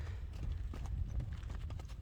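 Horse hooves clip-clop at a steady pace outdoors at a horse event, a soft, muffled rhythmic thudding heard over low rumbling background noise and wind.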